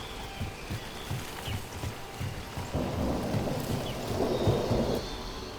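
Steady rain and rolling thunder in the fantasy game Dragon Age, a dense hiss of rainfall under low rumbles that swell louder midway through, with no talk.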